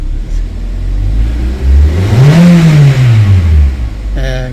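An LPG car engine with a starting fault revs up, pitch rising then falling as the accelerator is pressed and released, loud and close.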